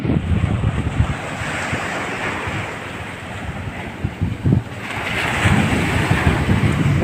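Ocean waves washing onto the shore at Brooks, Palawan, with steady surf roar and gusting wind buffeting the microphone, swelling louder near the end.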